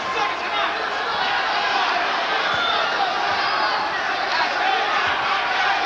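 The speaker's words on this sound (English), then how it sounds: "the crowd in anticipation comes to their feet here" A boxing arena crowd roars and cheers steadily near the final bell of a close title fight. The dense, loud din of the crowd continues the whole time, with a commentator's voice faint underneath.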